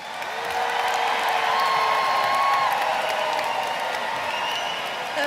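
Steady applause from a large crowd at a high school graduation ceremony, moderately distant and sustained, with a faint voice carrying over the clapping.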